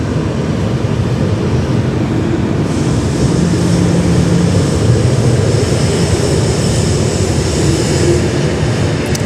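An airliner on the New York JFK service descends toward runway 16 left at Sydney Airport, its engines a loud, steady rumbling drone that swells slightly as it nears, with no voices.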